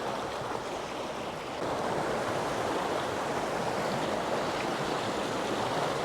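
River rapids rush in a continuous broad wash of flowing water, steady and fairly near, swelling slightly louder after the first second and a half, with no voices.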